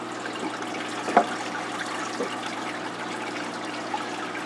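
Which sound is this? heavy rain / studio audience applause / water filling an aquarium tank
water filling an aquarium tank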